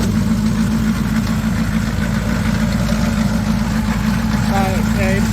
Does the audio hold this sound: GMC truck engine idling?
yes